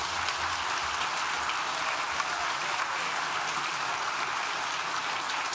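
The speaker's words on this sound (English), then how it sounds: "can we have a round of applause for the musicians?" Sustained applause from a seated graduation ceremony audience at a university, steady dense clapping for the musicians that holds evenly throughout with no voices over it.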